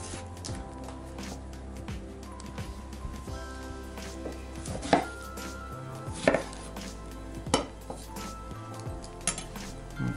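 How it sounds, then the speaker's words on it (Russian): Knife chopping a cucumber and a tomato on a cutting board for chicken shawarma with tzatziki: soft, irregular close taps and knocks, a few sharper board hits, and occasional light clinks of a bowl. "Так, нарезаем огурец."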